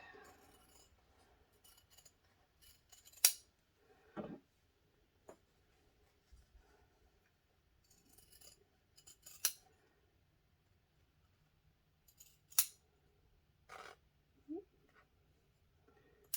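Scissors snipping thin fabric for a small lip balm pouch, a few sparse, quiet close-up clicks and cuts spread apart in near silence.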